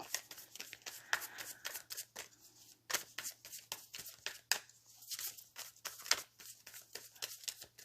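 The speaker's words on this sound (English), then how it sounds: "I'll pull a card. I'm going to cut the deck." Tarot cards riffled and shuffled by hand, then the deck cut, giving a run of quick, crisp papery flutters and snaps in irregular bursts, close and moderately loud with no talking.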